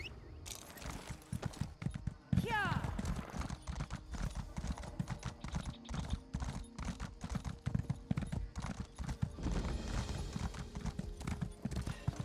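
Horse hooves in the video game The Elder Scrolls Online clip-clop rapidly in a steady galloping rhythm, close and crisp, with a brief whinny near the start and faint background music.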